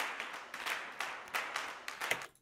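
A dry, unprocessed clap sample for a music production track, repeating about six times in a steady rhythm, close and fairly quiet, with no voices.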